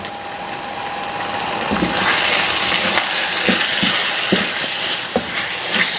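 Spaghetti being stirred into a beef sauce seasoned with Maggi and salt, a steady close sizzle and simmer with soft intermittent scraping and clacks of the utensil in the pot.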